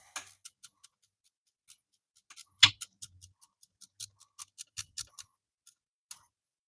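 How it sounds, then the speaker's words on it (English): Ratcheting wrench on a motorcycle exhaust bolt during a Yamaha R7 exhaust install, a sparse series of sharp dry clicks and ticks, close and isolated, with one louder metallic clack partway through. "put a regular wrench on the nut and a ratcheting wrench"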